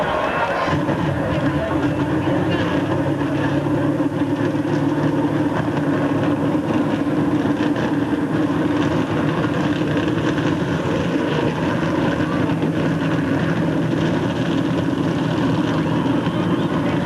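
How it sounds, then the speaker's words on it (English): NASCAR stock car engines start and run in a dense, steady, loud rumble at the 2002 Pepsi 400 at Michigan, many engines blending into a continuous idling drone with crowd noise underneath. "Gentlemen, start your engines!"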